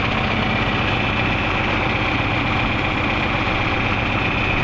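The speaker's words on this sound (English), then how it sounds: "1975 John Deere 4230 two-wheel drive tractor" A 1975 John Deere 4230 two-wheel-drive tractor engine idles steadily nearby, a constant loud diesel rumble with even low pulsing and no variation across the moment.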